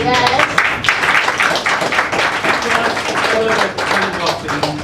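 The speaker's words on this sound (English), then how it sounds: "So I think that's a round of applause." Audience at a marketing presentation in Jamaica breaks into a round of applause, loud close clapping mixed with cheering voices across the whole stretch.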